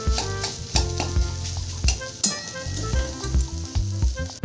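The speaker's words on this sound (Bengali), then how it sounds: "এবার এটাকে একটু হালকা করে ভেজে নেব" Eggs frying in a wok, a steady sizzle with occasional stirring scrapes, close up, running under looping background music.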